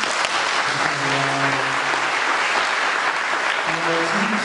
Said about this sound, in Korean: 그냥 박수 한번 하죠.